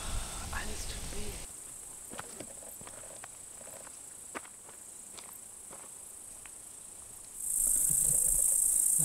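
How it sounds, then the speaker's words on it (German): Crickets chirp throughout a meadow on a solo overnight hike, forming a steady high buzzing bed. Faint footsteps crunch through the grass, and the insect sound swells louder near the end. "Es geht mitten durch die Wiese. Überall zirpt das."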